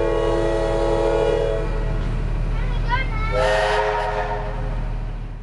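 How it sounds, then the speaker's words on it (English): Diesel locomotive 44211 hauls steam locomotive 2705 out of a country station, with a loud, steady engine drone and rumble throughout and a horn blast rising partway through, close by. "44211 is leading 2705 out of Thelmere Station, heading its way to Picton."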